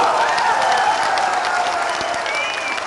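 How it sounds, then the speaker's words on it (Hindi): Crowd applause swells at a political election rally in Seraikela, Jharkhand, a dense steady wash of clapping with cheering mixed in, loud and continuous throughout, with a faint voice heard over it. "आज चंपई जी का जन्मदिन भी है, इसलिए दोबारा ताली बजाओ जरा।"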